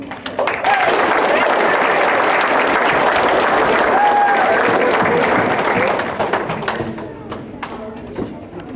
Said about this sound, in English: we would like to give a round of applause to each of these contestants.